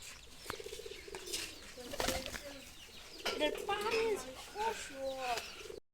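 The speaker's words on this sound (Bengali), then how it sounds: "ওর কবুতরের ঘর অনেকগুলো কবুতর আছে" Pigeons coo repeatedly at close range from a pigeon house, soft throaty calls overlapping with people talking, plus occasional sharp taps and rustles.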